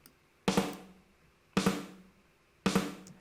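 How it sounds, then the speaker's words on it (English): Three evenly spaced drum hits, each followed by a quick short echo from a Doepfer BBD modular delay, giving a tight slapback repeat on a sparse loop. "Obviously, you can have a simple slapback."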